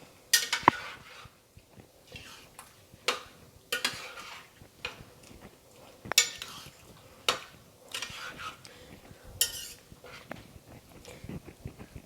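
A spoon stirs seafood stock through meat in a pan, scraping and clinking against the metal in irregular taps and short strokes, close and fairly quiet, with long pauses between the louder knocks.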